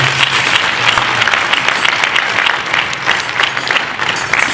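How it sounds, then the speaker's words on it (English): Loud, dense audience applause at a retreat panel, a continuous roar of many hands clapping from start to finish with a faint crowd murmur underneath. "Give him a round of applause."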